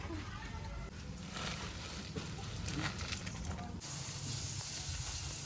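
Eggplant (brinjal) slices frying in a pan, a steady soft sizzling hiss that holds throughout at low level, with a voice talking faintly under it.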